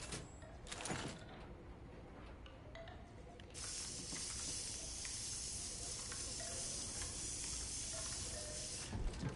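A spray can releasing a long, steady, close hiss that begins abruptly and runs for several seconds, preceded by a couple of short bursts and faint handling noises.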